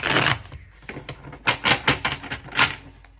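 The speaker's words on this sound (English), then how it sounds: "So I'm just going to do a shuffle real quick to clear the energy from the past reading." Tarot cards being shuffled by hand, a run of crisp riffling and flicking bursts in close succession, up close, with no talking.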